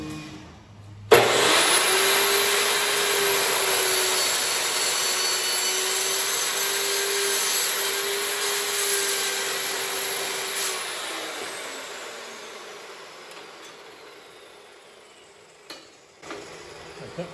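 A power tool cuts the end of an ornamental iron railing: the motor whines up sharply, holds a steady loud grinding cut for about ten seconds, then spins down slowly, followed by a couple of faint clanks, with no talk.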